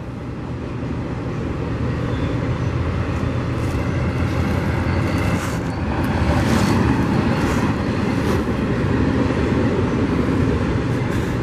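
A Norfolk Southern freight train carrying Triple Crown trailers rolls past in a continuous rumbling roar with faint clanks, steady for the whole stretch and swelling slightly midway, with no voices.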